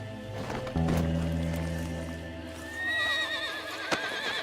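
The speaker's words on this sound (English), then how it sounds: "I'm trying to keep the horse kind of calm." A horse in the Red Dead Redemption 2 video game lets out a loud, drawn-out whinny that falls away, with clip-clop hoofbeats and a sharp knock near the end; no one speaks.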